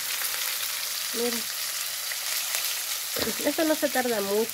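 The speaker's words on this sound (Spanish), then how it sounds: "Yo creo que ya solo es el pescado que vamos a freír." Fish frying in plenty of oil, a steady bright sizzle running through the whole stretch while someone talks over it in two short bursts.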